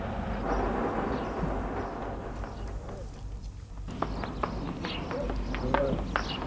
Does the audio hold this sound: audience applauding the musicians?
no